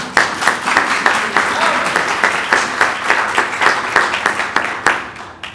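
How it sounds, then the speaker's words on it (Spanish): A church congregation gives loud applause, a mix of many hands with distinct sharp individual claps standing out in an uneven rhythm, close by, with voices murmuring faintly underneath. "Un fuerte aplauso, hermanos."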